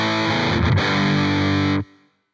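Electric guitar played through a Line 6 Spider V 20 combo amp on its Mesa Boogie metal model: a thick, heavily distorted chord rings for nearly two seconds, with a brief choppy stutter partway through, then is cut off sharply.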